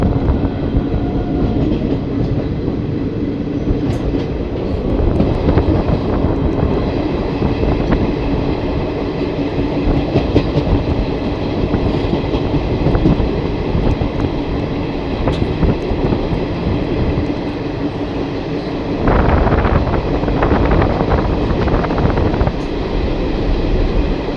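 The Malda–Howrah Intercity Express via Azimganj departs Bansberia toward Bandel, its loud, steady interior rumble and rhythmic clatter of wheels filling the whole stretch, briefly intensifying near the end.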